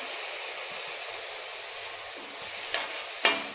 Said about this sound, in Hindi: अब इसमें मैं चावल डालती हूँ। इसको चलाऊंगी